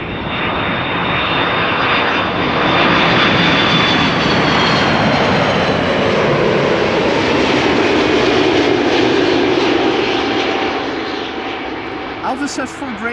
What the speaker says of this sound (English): KLM flight 775 arriving from Port of Spain. A330-300.